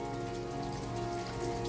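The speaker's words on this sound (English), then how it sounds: "now it's just going to be rain from here on out. And it's a lot." Heavy rain at an off-grid cabin after a snowstorm, a steady dense patter on a surface with a constant hiss and no pauses.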